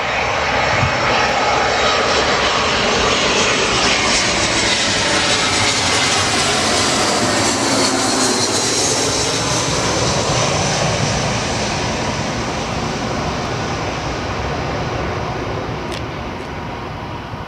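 A Jetstar jet airliner arriving from Sydney lands at Gold Coast Airport, its engine roar loud and sustained throughout, fading slightly toward the end, with no voices.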